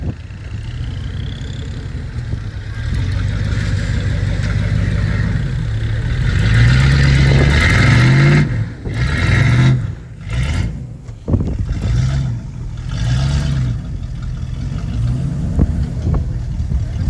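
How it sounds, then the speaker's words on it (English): Rock crawler engine revving and roaring through its exhaust at a rock crawling competition in Cedar City, loud and close, with bursts of throttle rising and falling over a sustained rumble. "when you fall off a cliff and all of a sudden your exhaust makes more noise"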